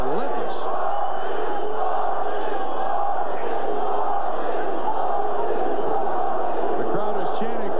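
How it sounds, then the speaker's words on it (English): Boxing arena crowd at the Jorge Paez vs Troy Dorsey rematch chanting for a fighter while rival fans boo, a loud, dense wall of voices sustained throughout. "The crowd is chanting for Dorsey, and the Paez fans are trying to boo them down."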